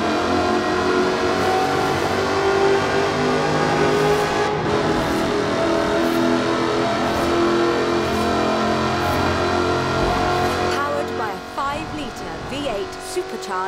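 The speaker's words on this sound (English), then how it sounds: "Supercharged engine." A supercharged sports car with an all-aluminium body in Forza Horizon 4 accelerates, its engine droning and rising steadily and loudly under a narrating voice, with music running beneath.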